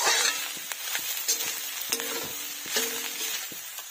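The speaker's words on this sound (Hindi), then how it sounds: "तो इसमें हम डाल लेते हैं पत्ता गोभी, ताकि मेरा पत्ता गोभी इसके साथ साथ भी हो जाएगा। इसे मिक्स कर लेते हैं।" Cabbage and soybean chunks being stirred in a frying pan, a soft steady sizzle broken by repeated scraping strokes of the spoon against the pan, close and moderately quiet with no talking.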